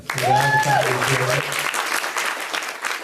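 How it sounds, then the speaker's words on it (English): Audience applause at a startup founders' talk, dense clapping that begins with a brief voice over it, then carries on alone at a steady level. "Round of applause"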